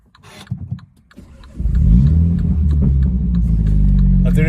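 A warmed-up, rebuilt Mini John Cooper Works engine rumbles, then catches and revs into a loud, deep exhaust drone that holds steady up close, with no talking.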